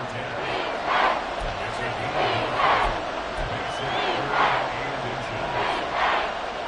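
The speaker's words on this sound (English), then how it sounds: "This crowd trying to force a false start here." A roaring stadium crowd in the Madden football video game swells in repeated surges of cheering and yelling, loud and continuous, with an announcer's voice talking over the noise.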